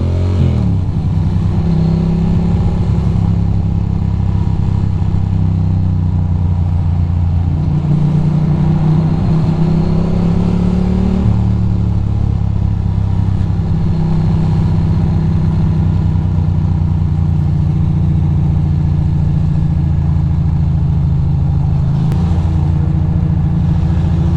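A motorcycle rides through traffic, splitting lanes, with a loud, continuous engine drone close by whose pitch rises and falls as the rider speeds up and eases off.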